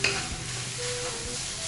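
Pork stir-fried with chili and noodles in a wok, giving a close, steady sizzle with scraping stirs throughout.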